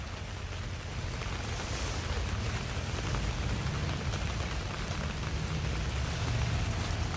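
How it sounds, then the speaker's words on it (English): Steady rain falling outdoors somewhere in Sonoma County, a constant dense hiss with low rumble and no clear breaks, moderately loud and unchanging throughout, with no talking. "Oh, can you hear the rain?"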